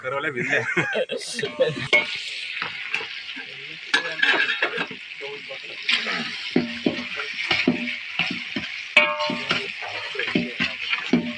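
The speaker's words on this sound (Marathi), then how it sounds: "मस्तपैकी ग्रेव्ही चिकन होतोय" Chicken in gravy sizzles and bubbles in a pot cooked outdoors in Kokan, with stirring and clinks of utensils, moderately close, while people talk intermittently over it.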